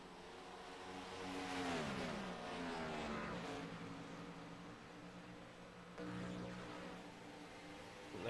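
Stock race cars of a Cup Series field running warm-up laps at Las Vegas, a steady distant engine drone that swells and fades as cars pass, with no talk over it.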